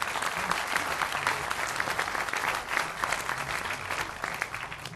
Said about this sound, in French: je vous demanderai d'applaudir Tom Deneyer